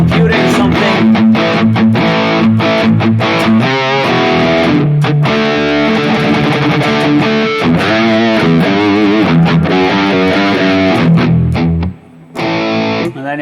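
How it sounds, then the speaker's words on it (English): A heavily distorted electric guitar through a Mooer GE-1000 metal distortion setting plays loud, dense chords and riffs continuously, with a brief dip near the end before resuming. "if you choose metal distortion, then maybe you can play your sound"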